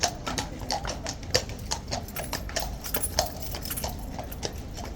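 Horse hooves clip-clop steadily on a hard surface, a rapid run of close, crisp knocks continuing throughout with no talking.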